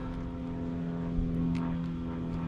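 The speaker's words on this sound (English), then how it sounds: "We got a plane going overhead." An airplane passes overhead outdoors at a monument and memorial site, a steady droning engine hum that holds evenly through the moment with no talk.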